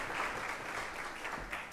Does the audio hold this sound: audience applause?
yes